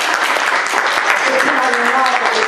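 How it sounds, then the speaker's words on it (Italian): Applause at a formal Italian business presentation welcoming Beniamino Quintieri as president of SACE, loud and continuous clapping close by, with a voice speaking over it near the end. "lo accoglierei con un grande applauso"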